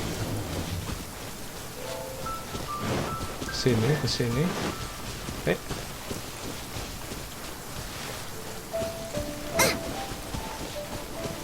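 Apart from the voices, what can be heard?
rain in video game Genshin Impact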